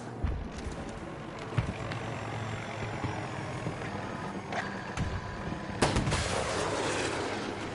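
A helicopter in a video game drones overhead beneath heavy booming gunfire and explosions, a dense, loud battle mix with sharp blasts punctuating the whole stretch.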